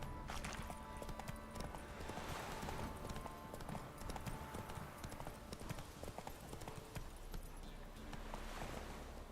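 Roach the horse trots in The Witcher 3, hooves clip-clopping in a quick steady rhythm, loud and close over a dense game background, with a faint voice at times.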